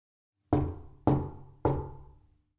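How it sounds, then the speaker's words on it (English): Three loud, hollow knocks, evenly spaced about half a second apart, each ringing briefly before fading into silence. "All they know is that it started with a knock."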